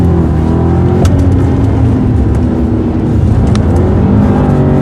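A 2015 BMW Alpina B6 Gran Coupe with all-wheel drive and an 8-speed transmission accelerates hard on a racetrack, its engine a loud, continuous, close-up roar with a strong low rumble.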